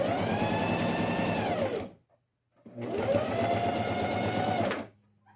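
Sewing machine stitching the lining of a necessaire box, two bursts of fast, buzzing motor-driven stitching about two seconds each, separated by a short pause and ending in silence.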